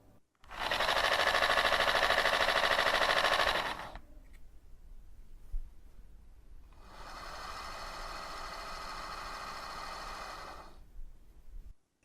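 A Mini 2 spinning wheel with a ball-bearing flyer runs in two bursts, a loud whirring stretch followed after a pause by a noticeably quieter, smoother hum, with no voices.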